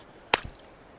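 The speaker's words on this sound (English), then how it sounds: "can you hear this other foot in the water?" One foot sloshes into shallow water at the shoreline, a brief close splash followed by a softer second slap, alone against quiet surroundings.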